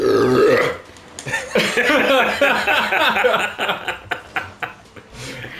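Men on a sailing trip burping loudly, one long deep belch followed by a string of shorter burps mixed with snickering and laughter, close and prominent.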